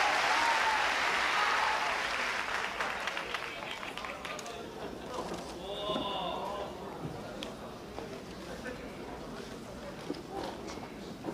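Wrestling crowd at a Gladiator Mike Awesome versus Hayabusa match breaks into light scattered applause amid arena murmur, clapping loudest early then thinning, with a commentator's voice talking over it.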